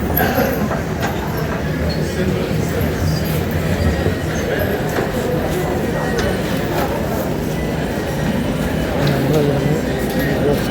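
Metro train running steadily close by, a continuous dense rumble with faint wheel clatter and occasional high squeal throughout, with voices mixed into the background.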